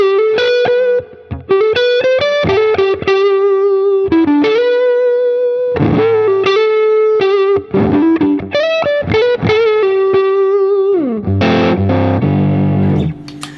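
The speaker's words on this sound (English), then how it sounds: "this is made up of the divided by 13 FTR amp head combined with the 2x12 interstate cabinet" Electric guitar through an HX Stomp rock preset with a Divided by 13 FTR amp model and a 2x12 cabinet: loud, distorted single-note lead lines with bends and sustained notes, ending on a chord.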